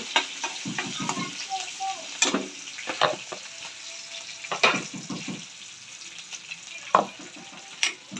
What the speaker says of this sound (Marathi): कांदा, लसूण आणि मिरची चांगली भाजली.